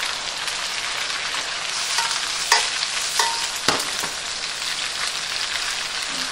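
Onion for tacos sizzles steadily in a frying pan, a bright continuous hiss with a few soft clinks and taps from stirring, close and fairly loud with no voices.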